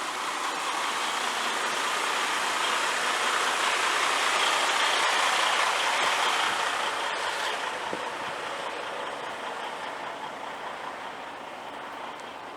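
A vehicle engine runs steadily in a residential area, a loud broadband rumble with hiss that stays constant for the whole stretch, fading only slightly toward the end, with no talk over it.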